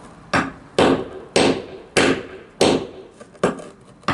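A hammer strikes crystal geodes seven or eight times at a steady pace, each blow a sharp close crack that rings briefly. There is no talking.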